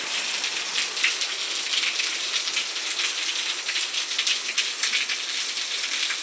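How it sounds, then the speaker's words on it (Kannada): Heavy monsoon rain pours down steadily on a rural farm garden, a dense, loud, continuous hiss of drops drumming on surfaces with no speech. "ಮಳೆ ನೋಡ್ರಿ ಫುಲ್ ಜೋರು ಹೊಂಟೈತಿ."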